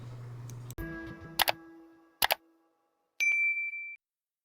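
Notification bell sound effect: a series of metallic ticks and clicks leading to a clear, sustained high ding that rings out and stops abruptly, standing alone with no voices.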